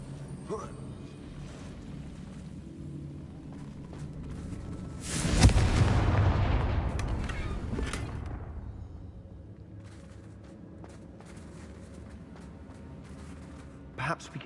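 A Confringo fire spell goes off in the video game Hogwarts Legacy, a sudden loud whooshing blast near the middle that trails off over a few seconds, with game ambience before and after.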